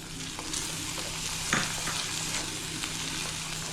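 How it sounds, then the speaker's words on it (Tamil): Onion and ground tomato paste sizzle and fry steadily in a pan for a Tamil sundakkai kara kuzhambu, with a few brief stirring scrapes. The hiss is close, even and continuous, and no one speaks. "இதையும் சேர்த்து நல்லா வதக்கணும்"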